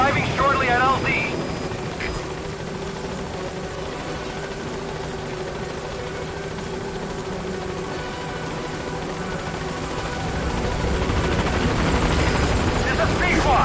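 A support helicopter arrives at a landing zone in the video game Metal Gear Solid V, its rotor and engine thrumming steadily and swelling louder toward the end, with brief game sounds at the start.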